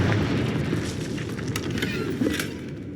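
A Confringo fire spell blasts in Hogwarts Legacy, a rumbling burst of fiery explosion noise that swells and crackles for a few seconds, with a brief sharp flare near the end.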